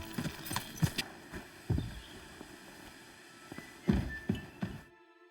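Horse hooves clip-clopping in the video game Kingdom Come: Deliverance II, a handful of distinct close hoof strikes in uneven clusters with quiet gaps between, ending in silence.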